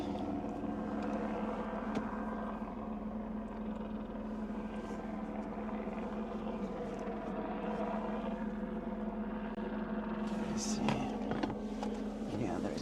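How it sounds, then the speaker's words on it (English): Helicopters fly around near an erupting volcano in Iceland, a steady low rotor drone persisting throughout with faint wind and a brief rustle near the end. "as you can hear, there are some helicopters around."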